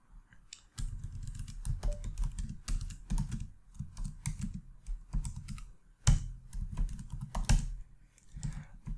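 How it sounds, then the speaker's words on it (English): Steady keyboard typing, a rapid run of close clicks and key taps continuing throughout with brief pauses, no voices. "I'm typing"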